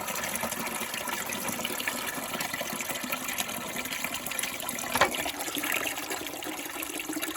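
Quiet, steady rush of well water pouring from a spigot into a roughly five-gallon container, an even continuous flow with one small splash partway through.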